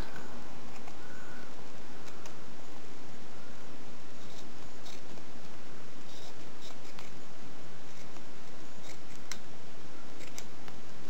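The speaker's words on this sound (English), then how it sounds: "just going to trim this to the size I want, and plus I want to get rid of those corners" Scissors snip a latex prosthetic piece to size and round off its corners, giving a steady run of small, close, crisp clicks and cuts over a constant background hiss, with no voices.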